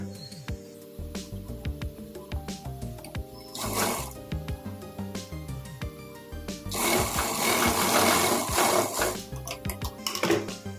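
A sewing machine stitches a salwar belt in rattling runs of varying length, with a louder, sustained stretch in the second half; no speech.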